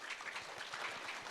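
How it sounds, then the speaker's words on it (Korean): A conference audience claps in welcome for a session chair at a science gifted-education festival, a dense, even patter of many hands for a brief moment, with no speech. "여러분 박수로 환영해 주시기 바랍니다"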